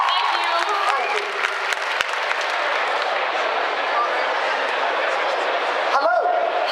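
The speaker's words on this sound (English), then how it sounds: "Give yourself a round of applause." A crowd at a comic convention Q&A panel breaks into loud, continuous applause, dense and even throughout, with a voice briefly speaking over it near the end.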